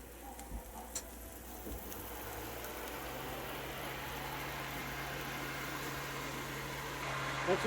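Food sizzling while cooking inside an RV: a steady, close hiss that slowly builds and grows louder toward the end, with no talking.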